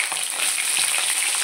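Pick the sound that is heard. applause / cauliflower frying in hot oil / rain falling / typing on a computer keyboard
cauliflower frying in hot oil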